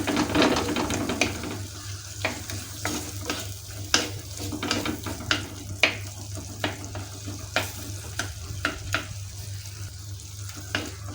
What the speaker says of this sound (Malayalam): ഇപ്പം ഞാൻ നമ്മുടെ തക്കാളിയൊക്കെ സ്പൂൺ വെച്ച് നല്ലപോലെ ഉടച്ചെടുത്തിട്ടുണ്ട്